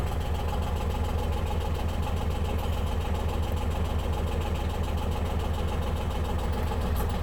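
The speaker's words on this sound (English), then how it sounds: "And it's also a diesel engine." An Intimidator 2500 Truck Series diesel UTV engine idles steadily nearby, a low, even rumble with a rhythmic chug that holds unchanged throughout.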